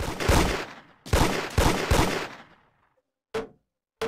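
Roblox video game gunfire rings out in loud, sharp bursts, a quick cluster of shots followed by a pause, then two more isolated cracks.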